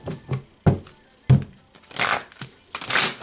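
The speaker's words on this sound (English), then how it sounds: "I definitely just shuffled these cards" Tarot cards being shuffled by hand: soft, close papery riffles and snaps in a few quick bursts, quiet and without talk.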